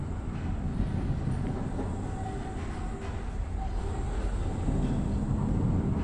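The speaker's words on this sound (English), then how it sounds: "Just a nice little tram back." A tram rolls along rails in the video game Abiotic Factor, a steady low rumble and rattle of wheels running continuously throughout, with no talk over it.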